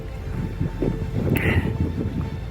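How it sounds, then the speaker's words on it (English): Wind gusting across Half Moon Pass on Mount of the Holy Cross in Colorado, as a steady low rushing roar buffeting the microphone, close and continuous throughout. "Weather's not looking great. You can hear the wind."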